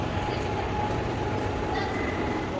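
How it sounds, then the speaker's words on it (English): A metro train rolls past near Nagasandra metro station in Bengaluru, a steady dense rumble of wheels and carriages holding at a constant level for the whole stretch, with faint higher squeals toward the end. "That's the metro, Nagasandra metro station."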